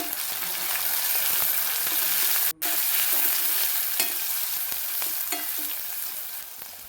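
Chili powder fries in a pan over onions that were browned first, a steady, close sizzle with the scrape of stirring running throughout and no one talking.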